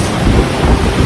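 Takakkaw Falls, a large mountain waterfall in a Canadian national park, roars as a steady, loud broadband rush, continuous and close with heavy low rumble and no voices.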